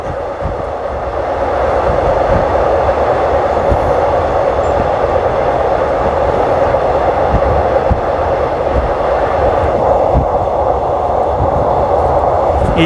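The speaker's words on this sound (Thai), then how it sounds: "รถไฟวิ่ง" A train runs on an elevated track between Bang Sue station and Don Mueang in Bangkok, a steady, close rumble of wheels and carriage noise that holds for the whole stretch with no talking.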